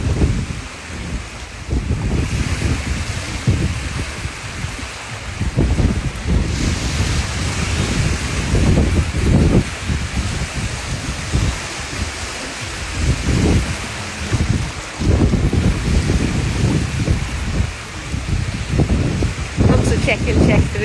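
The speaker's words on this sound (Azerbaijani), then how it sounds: "siz dənizin səsinə qulaq asın" Sea waves wash onto the shore under steady wind, a continuous loud roar with surges of surf, and people talk nearby throughout.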